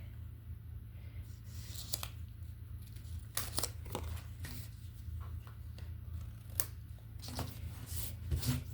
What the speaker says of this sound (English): cut off the excess.